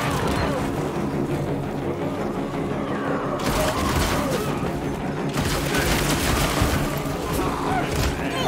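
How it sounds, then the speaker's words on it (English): Heavy gunfire in the video game Evil West, with dense continuous shooting and booming impacts filling the whole stretch, loud and close, in bursts that swell and ease off, with faint voices mixed in. "Fucking bullets going everywhere."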